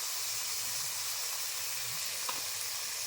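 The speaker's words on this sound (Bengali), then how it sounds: "দিয়ে দিচ্ছি সিদ্ধ করা রাখা চানাগুলি, হলুদ গুঁড়ো, লাল লঙ্কার গুঁড়ো" Boiled chickpeas with turmeric and red chilli powder cooking in a hot pan, a steady, soft sizzling hiss with faint stirring scrapes, close and continuous with no talking.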